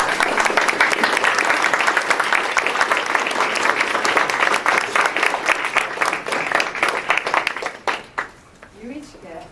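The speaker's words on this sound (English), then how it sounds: "I'd like to give them a round of applause." Audience at a 2013 spring business meeting breaks into loud, sustained applause that fills the room, thinning into scattered claps and then fading out near the end.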